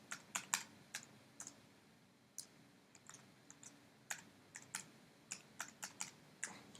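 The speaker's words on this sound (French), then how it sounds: "Là, je tape à une main, c'est normal." Someone typing one-handed on a computer keyboard, sparse, irregular key clicks in short bursts, quiet and close against a faint room hush, no voices.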